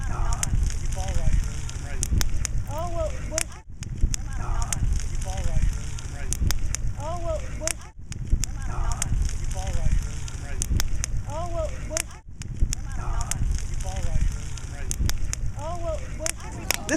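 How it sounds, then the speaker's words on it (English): A beach bonfire crackles and pops steadily throughout, with sharp snaps scattered over a low roar while voices murmur in the background. "bonfires and glowing embers and be careful you don't step on it"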